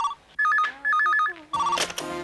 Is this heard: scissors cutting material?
no